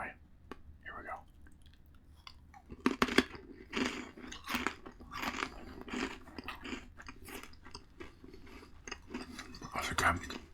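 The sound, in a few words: chewing crunchy dill pickle pretzel sticks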